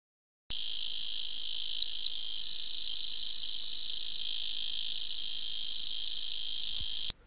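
A black-horned tree cricket sings one continuous, high-pitched, loud trill that holds unbroken for about six and a half seconds, then stops abruptly, with no other sounds around it.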